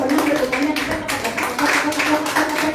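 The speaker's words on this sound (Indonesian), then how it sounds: "Tepuk tangan dulu dong kalau pemenang." A church congregation at a charismatic Sunday service applauds together, a dense burst of clapping that carries through the whole moment with voices mixed in.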